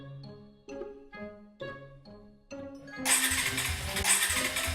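A motorcycle engine is cranked in several short bursts before it catches and settles into a loud, continuous running rumble.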